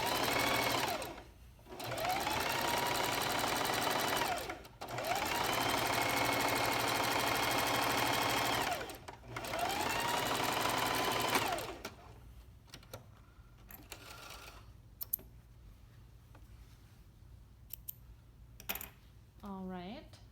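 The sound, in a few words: sewing machine stitching a lining seam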